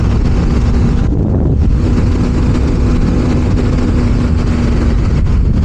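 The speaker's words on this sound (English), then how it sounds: "It is getting a little windy inside my helmet" Wind buffets a motorcycle helmet on the highway on a GSXR, a loud, constant roar mixed with a low engine hum that briefly eases near the one-second mark. No one speaks.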